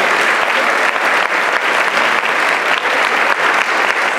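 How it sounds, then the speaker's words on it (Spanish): Audience applause at a school ceremony honouring students and teachers: dense, continuous clapping from a large crowd, loud and sustained throughout with no voices over it. "Un fuerte aplauso para los alumnos y profesores."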